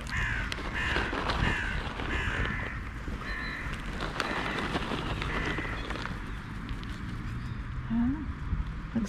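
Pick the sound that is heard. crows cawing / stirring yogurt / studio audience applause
crows cawing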